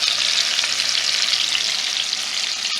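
Steaks sear in a skillet with a loud, steady broadband sizzle that holds without a break, close by, with no talking over it.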